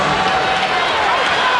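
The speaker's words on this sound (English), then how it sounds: "Crowd quieting now." Basketball arena crowd at the 1990 NBA Finals, Detroit against Portland, making a steady roar of cheering and hubbub with a faint commentary voice in the background.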